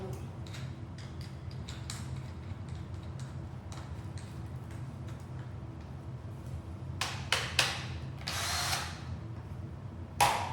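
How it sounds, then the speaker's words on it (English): A power drill fitted with a mixing paddle whirs and rattles steadily while stirring epoxy for a concrete floor, with a few louder clanks and scrapes toward the end. "Get our mixer set up."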